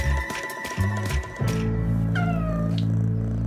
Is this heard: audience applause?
no